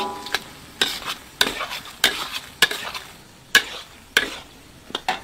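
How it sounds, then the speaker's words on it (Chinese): Dried chilies and Sichuan peppercorns are stir-fried in a wok with rendered pork fat, ginger and garlic. A spatula scrapes the wok about eight times in an even rhythm over a steady close sizzle, with no talking. "炒香后，我们放入干海椒和干花椒"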